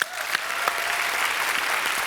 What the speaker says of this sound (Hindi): पहले जोरदार तालियां